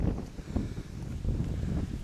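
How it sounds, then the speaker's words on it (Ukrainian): Strong southerly wind buffeting the microphone outdoors beside a pigeon loft, a low rumbling roar with gusty surges and rustling, steady throughout the short stretch. "Південний вітер."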